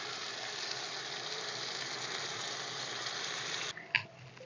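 Oil in a pan with potatoes, chopped coriander and spices hisses in a loud, steady sizzle as water goes in, then cuts off abruptly to a quieter bubbling with a clatter.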